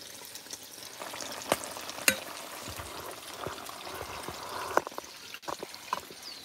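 Snapper fish frying in oil outdoors for a Jamaican-style fry, a steady sizzle with scattered pops and crackles plus a few sharp clicks and knocks, close up and fairly quiet, with no talk.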